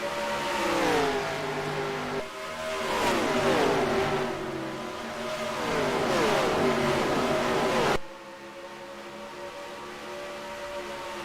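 Stock cars race around an oval in the video game NASCAR Racing 2003, their engines roaring loudly with repeated rising and falling pitch sweeps as the cars pass, before the sound drops to a quieter, steadier drone near the end.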